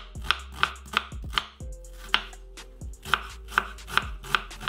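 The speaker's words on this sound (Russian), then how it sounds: "Мелко нарежем лук" A knife chops an onion steadily on a cutting board, about a dozen crisp, evenly spaced strikes close up with no talking.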